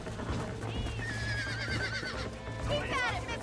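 A horse in the Red Dead Redemption video game whinnies in loud, drawn-out, rising cries over clip-clopping hooves and struggling noises, while a voice calls out over the scene.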